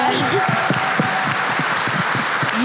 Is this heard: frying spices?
no